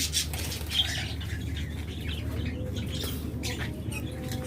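Caged lovebirds at a bird sale, with close wing flapping and scattered chirps and squawks over a steady low hum of background noise.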